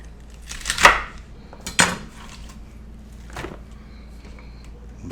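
A knife chops down through food in a home kitchen, producing two sharp, loud impacts about a second apart, then a softer knock against the board, with a quiet room between them.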